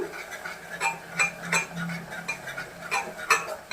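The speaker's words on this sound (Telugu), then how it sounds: "హల్వా చేసేటప్పుడు మధ్యలో ఇలా కలిపిస్తూ ఉండాలి మీరు." Bottle gourd halwa being stirred in a pan, giving a steady run of light scraping and clinking taps of a spoon against metal, close and fairly quiet, with no voices.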